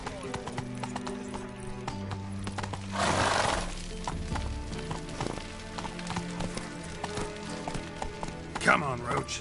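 Roach, a horse in The Witcher 3, gallops with rapid, close clip-clopping hoofbeats under game music and character speech, with a burst of rushing noise partway through and a short neigh near the end.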